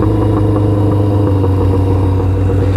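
A motorcycle sits idling loudly on a dinner ride with other bikers, a steady, heavy low-pitched engine drone that stays constant and close throughout, with no talking over it.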